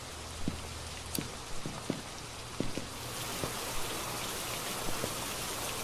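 Steady rain falls in the horror video game Phasmophobia as a constant soft patter, with scattered sharp drips and footstep-like taps over it, at moderate distance.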